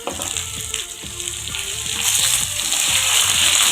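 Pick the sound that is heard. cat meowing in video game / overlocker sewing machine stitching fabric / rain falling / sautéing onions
sautéing onions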